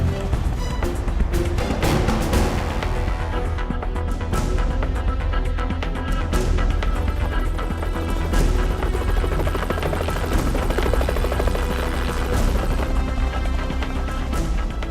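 A helicopter roars steadily overhead during a black rhino capture operation, its thumping rotor and engine drone loud and continuous throughout.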